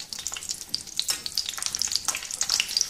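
Garlic and onion frying slowly in oil, a close, crackling sizzle full of rapid popping and spitting bursts, steady and lively throughout with no talk.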